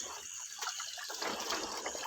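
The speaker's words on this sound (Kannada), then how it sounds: "ಮೋಟ್ರ್ ಹಾಕ್ರೆ ನೀರು ಮೇಲೆ ಉಕ್ಕಿ ಬರ್ತಾಯಿದೆ" A borewell motor pumps water gushing up through a newly fitted filter pipe, a steady broad rushing wash that is fairly faint and continuous, with no talking.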